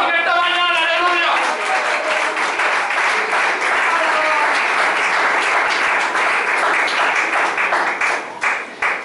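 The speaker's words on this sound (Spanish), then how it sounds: "Aplauda a Dios en esta mañana" A Spanish-speaking church congregation applauds God during a morning service, loud sustained clapping that begins under a voice speaking, then continues steadily before thinning near the end.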